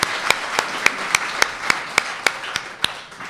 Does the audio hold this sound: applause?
yes